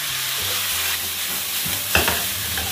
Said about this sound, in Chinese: 这个莴笋本身就是熟的了，我们稍微再翻炒一下就可以了啊。